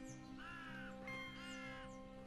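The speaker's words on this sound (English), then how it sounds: "Hear some birds." Crows cawing in Minecraft on a windy hilltop, two or three drawn-out harsh calls heard faintly at a distance over a steady low hum.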